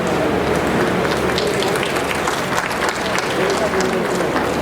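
Clapping from a crowd at a public gathering in Gorakhpur, a steady dense patter throughout with a voice faintly present underneath.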